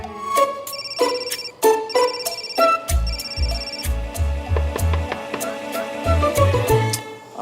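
A phone ringtone plays a bright electronic melody over a pulsing beat, loud and close, looping steadily with no one speaking.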